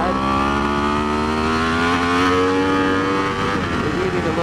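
A Yamaha R1 2015+ superbike at speed on the Ridge race track, engine droning loud and close with a rising pitch as it pulls through the gears, wind rush throughout and a rider talking over it.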